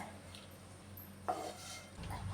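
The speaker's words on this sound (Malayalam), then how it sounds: "മെഴുക്കുവരട്ടി ഞാൻ ഇതിലേക്ക് മാറ്റുകയാണ്" Kerala-style green beans stir fry (mezhukkupuratti) being moved from a pan into a serving dish with the flame off: faint scraping and a few light clinks of a utensil against metal, quiet and close with no talking.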